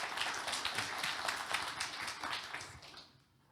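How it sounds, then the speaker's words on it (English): An audience at a conference talk on migrating from Hadoop to Kubernetes gives a steady round of applause, a dense, even patter of many hands that dies away abruptly near the end. "round of applause, please"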